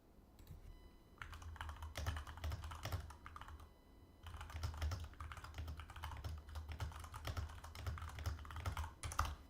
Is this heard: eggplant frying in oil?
no